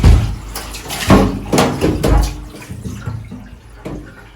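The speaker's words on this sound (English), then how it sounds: "It means we have that running water permanently." Running water pours and splashes while a glass enclosure is tipped and soaked through during a deep clean, with several sharp sloshing bursts that settle into a softer trickle, heard close up.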